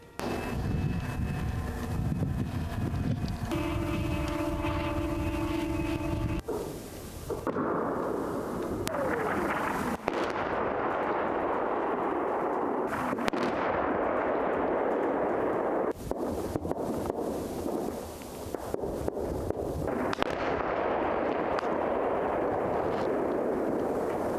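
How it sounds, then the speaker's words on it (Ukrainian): Heavy artillery booms thud out several times at a distance near Toretsk, Ukraine, each blast rolling across steady wind noise on the microphone. "вибухи під Торецьком звучать щохвилини"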